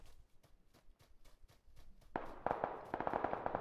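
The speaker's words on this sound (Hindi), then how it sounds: "आगे से फायरिंग हो रही है गाइस." Gunfire in the PUBG PC Lite video game, starting as a string of faint, evenly spaced distant shots, then breaking into louder, denser bursts of rapid firing nearby.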